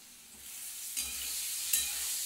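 Paneer frying in oil in a pan while being stirred, a steady close sizzle broken by two sharper scrapes of the spoon.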